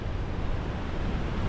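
Sea waves churn against the Malta coast in force 8 winds, a dense roaring wash of surf mixed with wind rumble on the microphone, steady and loud throughout the brief stretch.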